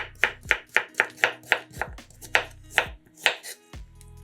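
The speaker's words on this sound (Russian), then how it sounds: "Один большой огурец нарезаем сначала вдоль на пластинки," A knife chops one large cucumber on a board, first lengthwise into slices and then into sticks, with a fast, regular run of crisp close cuts, a brief pause, then more chops, heard alone with no talk.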